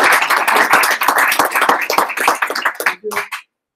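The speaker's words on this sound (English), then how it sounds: "so let's give a round of applause for Gordon." A small meetup audience at a blockchain developer gathering claps for a speaker, a lively burst of close, crisp handclaps that thins out and stops after about three and a half seconds.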